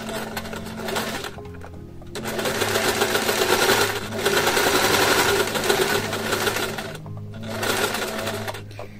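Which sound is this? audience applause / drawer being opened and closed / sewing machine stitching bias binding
sewing machine stitching bias binding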